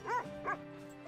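Dogs in The Red Lantern video game make two quick, quiet whimpering yelps over a faint low background hum, a short rising-and-falling cry followed by a second after a brief pause.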